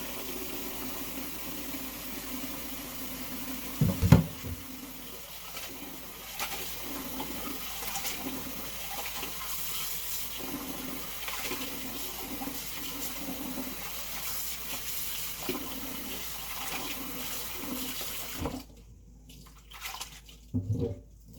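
A long, steady gush of water pours over Koki beans in a bowl during washing to loosen their skins. Occasional knocks sound through it, and the flow cuts off shortly before the end.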